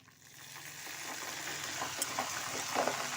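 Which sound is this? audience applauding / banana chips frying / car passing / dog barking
banana chips frying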